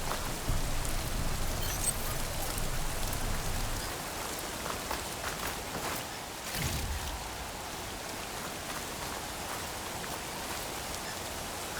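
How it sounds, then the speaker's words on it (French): Steady, heavy rain pours throughout a scene in the video game Horizon Forbidden West, a dense hiss of drops on surfaces that stays loud and even, briefly dipping midway, with no voices. "J'entends plus rien avec cette pluie."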